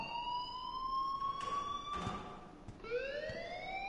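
An alarm blares inside the video game Life is Strange, a steady electronic siren-like tone holding level and then dipping and rising again, loud and continuous with faint background noise beneath it.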